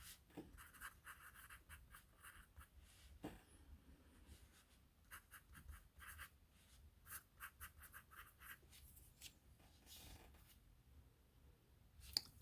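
A Ticonderoga Tri-Write cedar pencil, HB No. 2, writes on paper at close range: steady scratchy graphite strokes in quick bursts with short pauses, a few sharper taps where the point lifts and lands, and no talking.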